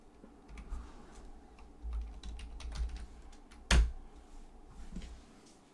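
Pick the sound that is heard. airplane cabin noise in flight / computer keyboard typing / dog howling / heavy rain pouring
computer keyboard typing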